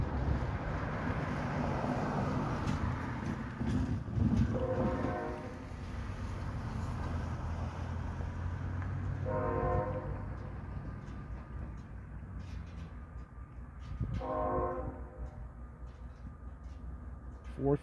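A train horn sounds faintly in the distance several times, long drawn-out blasts separated by pauses over a low, steady background rumble.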